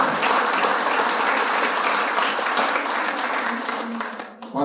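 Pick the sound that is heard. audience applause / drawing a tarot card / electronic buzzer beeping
audience applause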